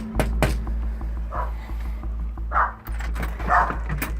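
A pet dog named Booker at a house front door gives a few short yips, barks and soft whimpers close by, over a low steady hum.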